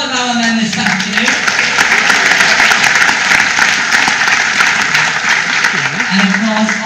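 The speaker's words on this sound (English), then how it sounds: "can we have a big round of applause for all of our men this afternoon?" Audience applauding the men in a Les Misérables performance, loud sustained clapping with cheering, with a voice speaking over it.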